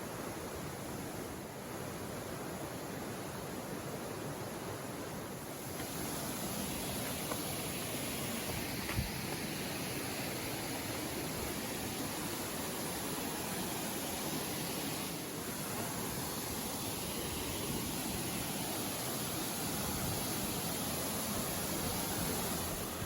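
Continuous broadband roar of a waterfall and rushing stream, steady and close, with no voices.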